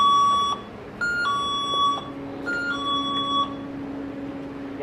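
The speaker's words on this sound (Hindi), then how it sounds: "ये वो डिवाइस है जो किसी भी किस्म की मूवमेंट को डिटेक्ट कर लेता है, यानी इस डिवाइस के बीच में से जो भी कोई चीज़ गुजरेगी, इवन धुआं तक, ये उसे भी डिटेक्ट कर लेगा और हमें अलार्म देगा" A motion sensor alarm that detects anything passing through it, even smoke, sounds several short electronic beep tones in an irregular sequence of high pitched pulses, fairly quiet and clear, alone.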